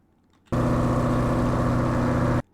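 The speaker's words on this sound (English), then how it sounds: "I'm going to press E to start the engine" A car engine in a Roblox game abruptly starts and holds a steady, loud droning idle for about two seconds, then cuts off sharply.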